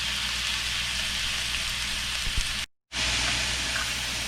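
Steady soft sizzle of sliced white mushrooms and garlic sautéing in a hot pan, a constant hiss with a brief clink, then a momentary drop to silence before the frying resumes.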